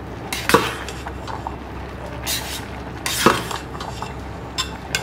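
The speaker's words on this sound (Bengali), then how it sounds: "10 মিনিট বাদে আমি আবারও একটু নাড়িয়ে নিচ্ছি।" Spoon clinking and scraping against the pot while stirring ilish polao rice in a rice cooker, a few distinct metallic knocks spaced over a soft background hum.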